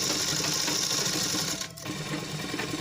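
A sewing machine runs steadily, stitching salwar fabric with a dense, continuous whirr close by. It dips briefly near the middle, then carries on at the same pace with no talking.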